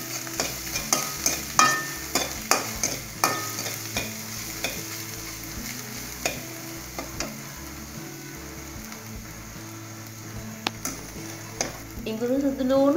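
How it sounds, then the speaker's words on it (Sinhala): Garlic and ginger sizzle in hot oil in a pan, with repeated scraping stirs of a utensil in a quick rhythm over the steady frying hiss. "ඒකට සුදු ලුණු, ඉඟුරු ටික එකතු කර සන්වන් පාට වෙනකන් එළඟි තෙලෙන් බැද ගන්න."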